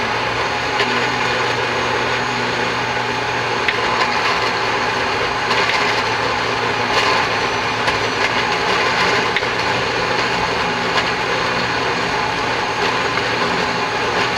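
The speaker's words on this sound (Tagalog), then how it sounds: "Ibe-blend ko na muna yung masanas at saka yung pinya." A blender whirs steadily for the whole stretch, processing apple and pineapple pieces, a dense continuous motor drone with no breaks and no talking over it.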